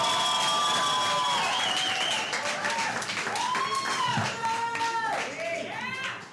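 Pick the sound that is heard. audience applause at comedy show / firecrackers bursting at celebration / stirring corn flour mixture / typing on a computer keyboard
audience applause at comedy show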